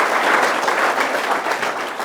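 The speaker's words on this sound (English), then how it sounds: "Round of applause for Barry for joining us" Steady audience applause at a kiwifruit industry talk in Taranaki, dense and continuous clapping filling the room without a break, fading slightly toward the end.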